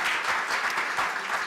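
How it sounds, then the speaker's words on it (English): Audience applause at a memorial celebration event, a dense, steady wash of many hands clapping together throughout, moderately loud and without pauses. "Another round of applause for Dr. Natalia Din-Kariuki."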